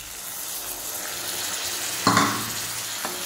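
Potatoes and pointed gourd frying in spices, with garam masala and cashews added, give a steady soft sizzle, broken by a louder scrape of stirring in the pan partway through and a faint clink near the end.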